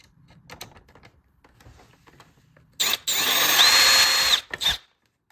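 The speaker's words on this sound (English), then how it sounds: "drill a pilot hole with the screwdriver" A power drill whirs loudly for about two seconds while drilling a pilot hole, briefly stops, then spins again, after some quiet clicks and handling noises.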